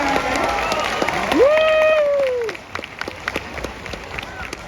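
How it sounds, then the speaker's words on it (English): A crowd at a sea lion show for Seymour claps and cheers loudly, while a voice calls out over it. The applause then thins to a few scattered claps. "Everyone, please round of applause for Seymour."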